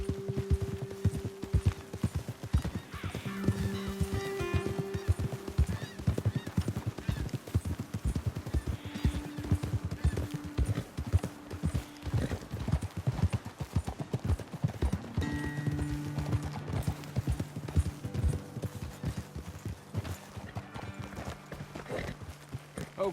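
Horses trot steadily in the Western video game Red Dead Redemption 2, their hooves making a fast, continuous clip-clop. Intermittent tonal sounds run over the hoofbeats throughout.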